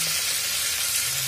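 Stuffed eggplant (bharwa baingan) frying in oil, giving a steady close hiss and sizzle with faint stirring noises throughout, no voices.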